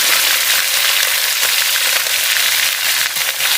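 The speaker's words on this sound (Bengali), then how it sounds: "এবারে দিয়ে দিচ্ছি আগের থেকে ধুয়ে রাখা মাংসগুলো" Small cut bone-in chicken thigh pieces hit hot oil in a pan, giving a loud, steady, dense sizzle that fills the whole stretch without a break, close and alone.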